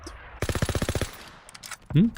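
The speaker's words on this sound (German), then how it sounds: "Das ist eine vollautomatische Waffe" A fully automatic weapon fires in Call of Duty: WWII, a rapid burst of about ten evenly spaced shots lasting roughly half a second, followed by a short, higher-pitched game sound.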